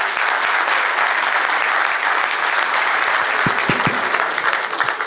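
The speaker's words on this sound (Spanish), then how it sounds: "pido un aplauso para nuestro premiado" Audience applause for an award winner at the Premio Rioplatense award ceremony, a dense, steady wash of many hands clapping that holds at an even level throughout, with no talk over it.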